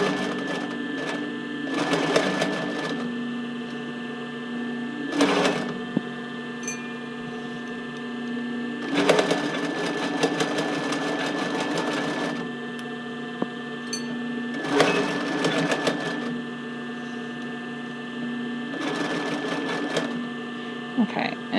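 Sewing machine stitching a fake cover stitch hem on a tank top, a close rapid mechanical whirr running in long bursts with brief pauses and clunks between them.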